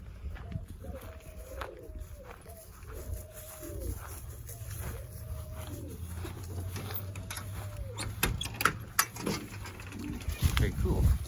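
Racing pigeons in a loft give a series of soft, repeated cooing calls at moderate distance, with light shuffling and mechanical clicks around them and some brief talk in the background.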